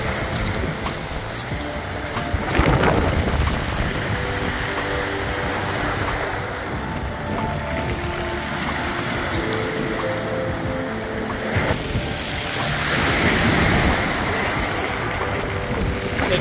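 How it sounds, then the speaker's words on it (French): Waves washing against the far bank of a river in Gaspésie, heard as a steady broadband wash mixed with gusty wind noise on the microphone, continuous and fairly distant throughout. "C'est pas les vagues de l'autre côté de la rivière, hein?"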